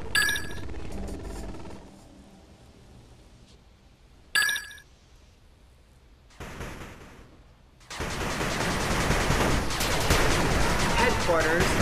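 Gunfire erupts in an 8-bit Armies battle as the headquarters comes under attack, with sharp game-effect bursts early on, then a dense, loud, continuous barrage of shots and explosions filling the last few seconds.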